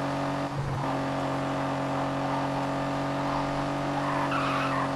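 In the racing video game Gear Club Racing, a BMW's tires squeal as the car skids and slides, a sustained engine drone continuing underneath the whole stretch without a break.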